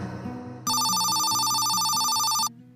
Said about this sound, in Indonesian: Siapa yang telepon malam-malam kayak gini?